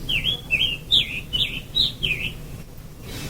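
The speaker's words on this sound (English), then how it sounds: "And so here's a scarlet tanager." A scarlet tanager sings a hoarse, burry song of six or so short phrases in a steady, robin-like cadence. The song is clear and fairly close, then stops, leaving faint background noise.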